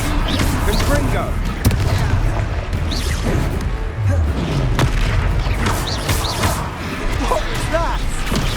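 A Confringo blasting spell explodes against an armoured troll during a village fight in Hogwarts Legacy. Repeated heavy booms and crashes sound amid continuous battle noise, with voices talking over it.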